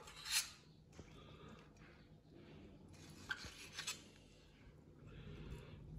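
A knife slicing chicken breast into small pieces on a board, with faint, soft scraping and a few light taps, quiet and close, with no talk.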